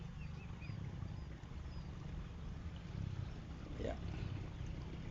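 An SJRC F22S Pro drone flies and climbs higher outdoors, giving a steady, even whirring hum with a constant low drone and some wind rush throughout.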